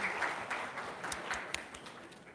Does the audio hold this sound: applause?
yes